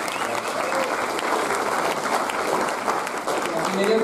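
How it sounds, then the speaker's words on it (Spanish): Church congregation applauding during a Spanish-language service, a dense steady wash of clapping lasting several seconds with faint voices mixed in. "Debemos darle un aplauso, ¿sí?"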